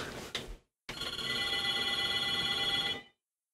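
A telephone rings in the room during a podcast recording: a short bell burst, a brief pause, then one longer ring lasting about two seconds, loud and close.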